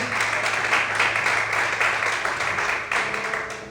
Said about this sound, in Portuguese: Será que você pode aplaudir ao Senhor bem forte, com alegria?